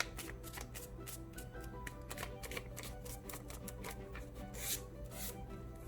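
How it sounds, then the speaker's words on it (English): Sheet of origami paper folded into a triangle for a crane, giving continuous close crinkling, rubbing and creasing rustles with light taps, steady and near with no talk. "I'm going to fold it again into a triangle."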